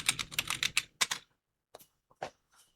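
Several quick keystrokes on a computer keyboard while entering a Hermes CLI command, a dense burst of clicks followed by a pause and a few scattered, fainter taps, with no talking.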